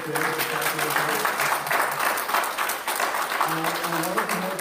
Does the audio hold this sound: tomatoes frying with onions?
no